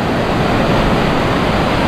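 Sea waves washing onto the beach in Goa, India, a loud, continuous roaring wash of surf that holds steady, with some wind noise, close to the microphone.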